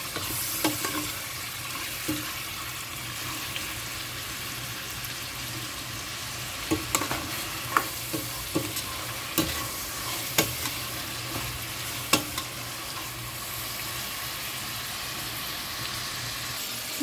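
Tomatoes sautéing in a pan for pinakbet with bacon, a steady soft sizzle running throughout with occasional clinks and scrapes of a utensil stirring.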